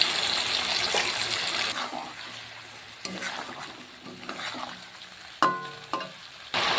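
Chicken pieces frying in a pan with a splash of water added, hissing and bubbling with scattered stirring knocks and clinks, close and steady, a faint voice now and then.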